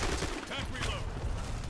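Rapid gunfire in the online shooter Black Squad crackles in a dense burst through the short clip, close and loud, with players talking over it.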